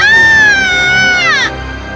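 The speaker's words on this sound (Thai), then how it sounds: "ผีสาวก็กรีดร้องออกมาราวกับถูกน้ำร้อนลวก" A female ghost lets out one loud, sustained shriek, a high wailing cry that holds steady, then bends downward and cuts off abruptly.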